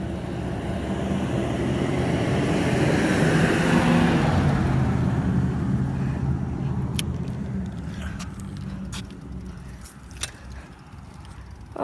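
Vehicles passing on a neighborhood road, heard from a bicycle as a loud broad rush of a car or truck going by that fades away, followed by quieter ambience with a few clicks.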